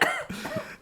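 Coughing fits after choking on a drink, a few harsh close bursts across under a second with no talk over them, though the sound could partly be laughter.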